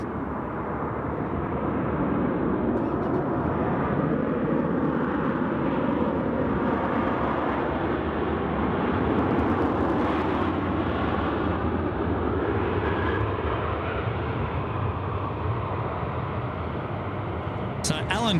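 A Virgin Australia Velocity service, inbound from Melbourne, rolling along a Sydney Airport runway at night: a steady, dense engine roar holding for the whole stretch, with voices murmuring faintly underneath.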